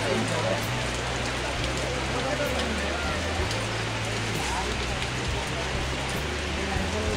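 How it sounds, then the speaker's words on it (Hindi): Steady rain pours over a busy shopping street at Charminar, a dense continuous hiss of drops on surfaces with low murmuring voices and hum underneath. "फिर यहाँ पर बारिश आना शुरू हो गई"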